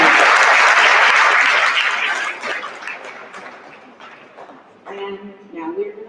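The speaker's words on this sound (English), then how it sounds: "let's give them a round of applause for those kids" An audience at a school winter band concert applauds the student performers, loud dense clapping that thins and fades after about two seconds, followed by a voice speaking.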